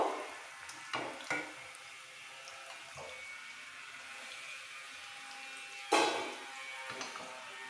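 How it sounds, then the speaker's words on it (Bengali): Vegetable manchurian balls fry in hot oil with a soft, steady sizzle, broken by a few sharp clinks and knocks of a utensil against the pan. "এইভাবে একটু ভেজে নিতে হবে যেন ভেতরে কাঁচা না থাকে"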